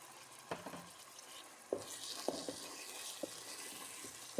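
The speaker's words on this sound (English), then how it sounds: "So I'm going to add the fresh tomato mix into this" Fresh tomato mix poured into a pot of frying base for jollof rice, giving a low steady sizzle with a few sharp clinks and taps of a spoon against the pot.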